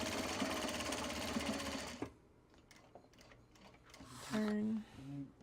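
A sewing machine stitches a traveler sling in a steady fast run for about two seconds, then stops, leaving light handling noises and a short voice near the end.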